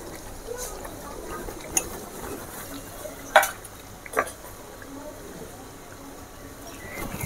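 Coconut and fennel paste is stirred into sizzling quail gravy, giving a soft, continuous low sizzle with a few scattered scrapes and clinks of a spoon against the pan, fairly quiet throughout.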